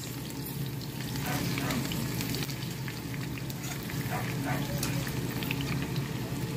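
Fish frying in oil in a pan, a steady, dense sizzle and crackle that fills the whole clip at close range, with no talking.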